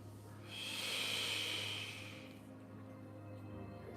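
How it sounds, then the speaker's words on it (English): A single long exhale during a mobility exercise, a breathy hiss that swells and holds for about a second and a half and then fades into quiet room tone, close to the microphone with no talking. "Breathe out as I return."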